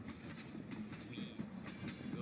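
A train arrives in a Roblox Poppy Playtime obby game, a steady low rumble of rolling wheels and rail clatter, moderately loud and continuous with faint higher rattles and no talk.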